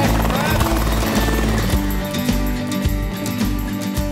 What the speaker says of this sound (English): landing a helicopter on the snow, kicks up all this white snow, and it's like you're landing in a cloud